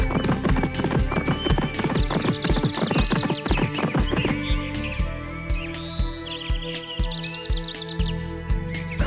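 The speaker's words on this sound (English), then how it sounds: "The horse started running even faster." Rhythmic clip-clop of galloping hooves in an animated children's story, steady and close, with a horse whinnying and music playing throughout.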